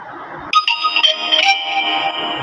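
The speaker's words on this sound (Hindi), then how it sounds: "मैसेज आ गया मेरे पास" A phone message notification tone chimes in an air-conditioned office, a bright melodic sequence of several quick electronic notes following a brief moment of background noise.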